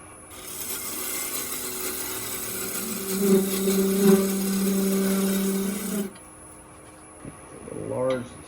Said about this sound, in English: put a tenon on both ends. We'll just use our skew for that as well.